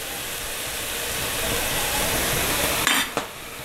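Eggs fry in a pan with cooked collard greens, a steady loud sizzle and hiss running throughout, broken near the end by a couple of sharp clatters from the pan.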